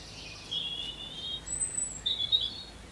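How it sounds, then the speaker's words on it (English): Birds singing outdoors during a Chen style tai chi class: a few faint, high chirping whistles come in short bursts over quiet background air, with no talking. "It's lovely with the birds song"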